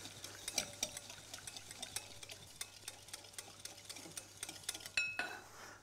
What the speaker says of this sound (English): Right, we'll whisk those together. And what we're going to do then is just add our olive oil into it.